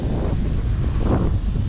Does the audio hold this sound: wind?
yes